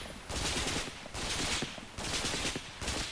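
Enemy gunfire in a video game, bursts of rapid automatic shots in three long volleys separated by brief pauses, loud and close with no talking over it.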